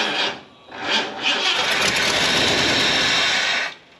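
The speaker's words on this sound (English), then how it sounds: "It starts and dies, starts and dies." A Ford F250 truck engine with a major vacuum leak cranks and catches twice in short bursts, then revs roughly at a steady roar for a couple of seconds before cutting out, loud and close.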